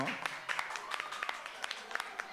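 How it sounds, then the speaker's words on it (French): An audience at a choir-versus-scouts competition event gives scattered, uneven applause, with sparse claps popping over a background of voices. "je vous demande encore une fois d'applaudir les deux équipes"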